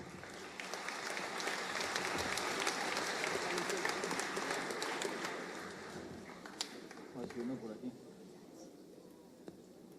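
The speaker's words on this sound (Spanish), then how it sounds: "Un aplauso para ellos, muchas gracias." An audience at a rural church pastoral gathering applauds, a soft, distant wash of many hands clapping that swells and then fades away toward the end.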